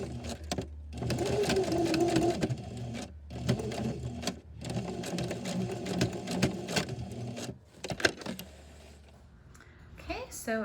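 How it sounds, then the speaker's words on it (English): A sewing machine stitching a diagonal line across fabric while binding an inward corner, a fast steady mechanical whir running in several stretches with brief stops and a few clicks. "I just wanna sew a diagonal line here to here on the machine"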